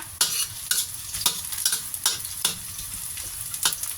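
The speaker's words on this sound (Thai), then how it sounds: "ใส่ลงไปแล้วก็ผัดนะคะ" Crab being stir-fried in a hot pan, with a steady sizzle and repeated sharp scrapes of a utensil against the pan at an irregular pace, close and clear with no talk.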